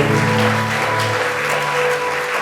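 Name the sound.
church congregation applauding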